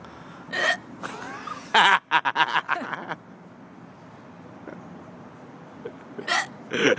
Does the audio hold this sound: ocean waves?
no